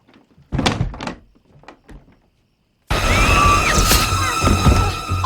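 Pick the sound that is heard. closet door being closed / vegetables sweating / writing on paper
closet door being closed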